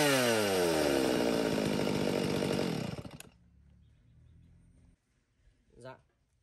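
Stihl ST chainsaw runs at a loud, high buzzing rev for about three seconds, then cuts off and winds down to a low idle that stops, followed by a short muffled sound.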